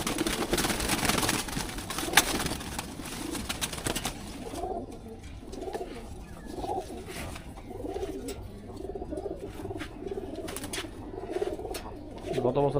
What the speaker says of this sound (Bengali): ফার্স্টে একটা কবুতর দেখাই